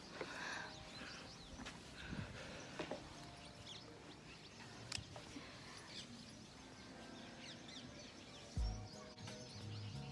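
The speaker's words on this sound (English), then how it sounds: "You can hear birds" Small birds chirp and tweet faintly in the distance on a quiet morning terrace in Udaipur, with scattered calls over a soft, steady outdoor background.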